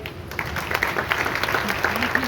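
Audience applause at a talk by a spiritual speaker in Rajasthan, a sustained round of clapping from a crowd that runs under a voice speaking over it.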